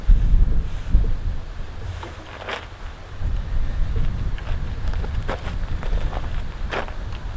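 Wind gusting across an open spot by the Snake River, a steady broadband rumble and buffeting on the microphone with a few brief higher swishes, continuous and fairly loud throughout.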